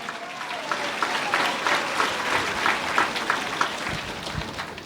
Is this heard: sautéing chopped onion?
no